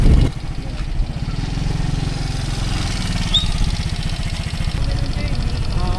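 A small boat motor runs with a steady low putter and a rough vibrating drone throughout on a camping trip in Calatagan, close and fairly loud with no pauses.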